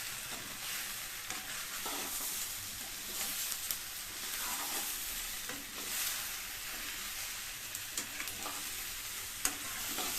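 Onion, chilli, tomato and garlic fry in a pan for an okra chutney, giving a steady soft sizzle with intermittent scraping stirs, no voices over it.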